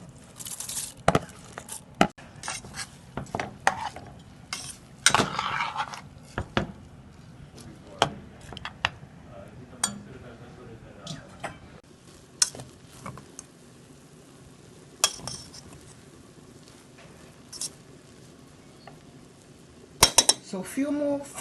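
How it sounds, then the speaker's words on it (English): Washed rice is poured into a pot of nearly boiling water and stirred, giving repeated clinks and scrapes of a utensil against cookware at varying intervals throughout, close and moderately loud, with occasional soft background noise. "we are going to go ahead and also add our rice that has been washed."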